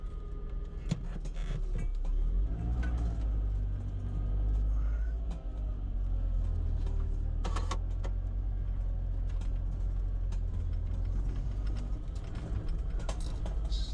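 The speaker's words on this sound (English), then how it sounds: "I'm driving to Washburn from Bayfield, and it's a good drive." Car driving the road from Bayfield to Washburn, Wisconsin, heard from inside as a steady low engine and road rumble with occasional knocks and clicks from the cabin, continuous throughout.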